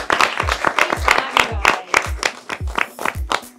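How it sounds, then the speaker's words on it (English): An audience at a school cooking competition final claps in brisk, uneven bursts, a small group applauding close by with a few voices mixed in. "let's just give a round of applause for our amazing,"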